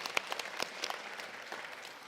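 An audience at a European Bauhaus urban policy event applauds with a light, scattered patter of claps, fairly faint and uneven throughout.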